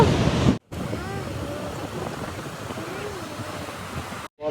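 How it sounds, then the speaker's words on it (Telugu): Steady surf rolls in at Rock Beach, Pondicherry, a continuous wash of waves and wind buffeting the microphone, loud and close with brief cutouts. "ఇప్పుడు మనం ఉన్నది పాండిచేరి కేంద్రపాలిత ప్రాంతం అంటే ఇక్కడ ఓటింగ్స్ అట్లాంటివి ఏమి ఉండవు రాక్ బీచ్ రాక్ బీచ్ లో ఉన్నాం ఇప్పుడు"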